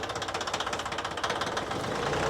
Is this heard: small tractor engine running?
yes